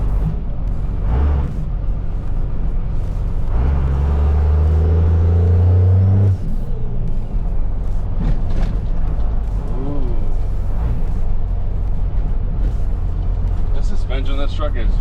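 A second-generation 12-valve Cummins diesel pickup engine fitted with a big turbo revs up loudly and close, with a deep heavy rumble and a long rising rev in the middle, and people talk over the engine.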